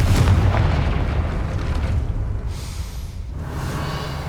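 A Confringo blasting spell going off in Hogwarts Legacy, a heavy booming explosion with dense rumbling noise that stays loud and sustained, then briefly eases before resuming.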